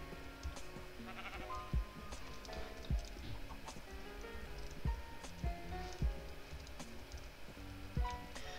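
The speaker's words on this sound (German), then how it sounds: "vielleicht sehen wir hier noch ein Schaf" Sheep bleating in the Minecraft video game, several short bleats over a busy layer of game music and footstep-like clip-clop sounds, moderately loud and close.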